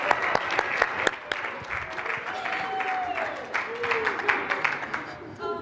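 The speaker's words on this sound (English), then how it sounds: "give him a big round of applause" Audience applause at a speaker showcase event, a steady wash of clapping with sharp individual claps standing out, with some talk and a brief tonal sweep heard mid-clip.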